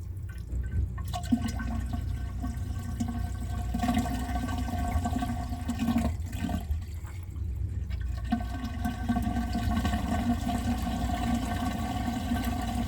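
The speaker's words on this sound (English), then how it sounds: "This is the sound of good draining." Water drains steadily from a kitchen sink after a drain line was cleared with a Ridgid K-400 drain cleaning machine and a dishwasher was run to drain. The rushing gurgle continues without a break, close and moderately loud, with no talking.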